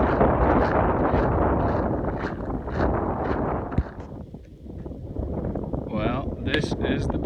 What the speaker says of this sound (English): As you can tell, it is windy.